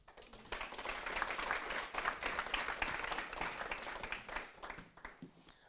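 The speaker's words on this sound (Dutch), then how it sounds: "Mag ik een applaus voor Mac Fine?" Audience applause after a talk at a Dutch panel event on house cleaning work, moderately quiet clapping from a room of people that swells, holds and tapers off.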